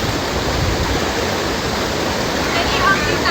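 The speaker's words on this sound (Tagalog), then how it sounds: "malakas yung agos ng tubig" Loud, steady rush of fast-flowing water, a continuous broadband roar filling the whole clip.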